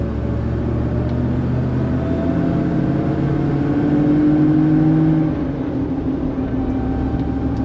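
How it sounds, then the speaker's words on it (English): A 1995 Land Rover Defender 90 drives along, its engine a steady, loud low rumble heard from inside, with a slight rise and fall in tone as it shifts through the gears. "Shifting through all 5 gears, going 50, 60, 70 miles per hour, nice and smooth."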